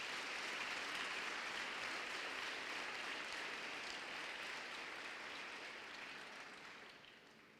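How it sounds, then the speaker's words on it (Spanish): An evening church congregation applauds in a soft, even wash of clapping that fades toward the end, with no one speaking. "Un aplauso a Jesús esta noche."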